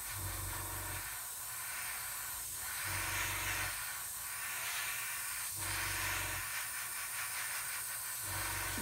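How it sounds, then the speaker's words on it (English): Spray paint hisses over a 1/72 scale model U-boat in a series of steady bursts several seconds long with short pauses between them, close and continuous, no voices. "So I'm just going to spray that over now."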